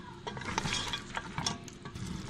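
Garlic ginger paste frying with whole spices in a pan, a close sizzle broken by repeated scraping stirs of a spoon at an uneven rhythm, with no voices.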